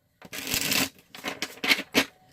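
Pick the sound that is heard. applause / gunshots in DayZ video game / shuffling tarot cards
shuffling tarot cards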